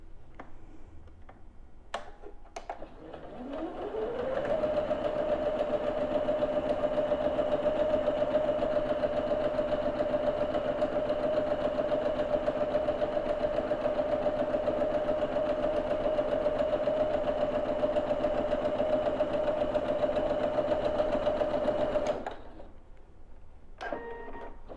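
A sewing machine chain-pieces quilt blocks in a steady, close, continuous mechanical whir that runs for about eighteen seconds, starting and stopping cleanly, with no talking over it.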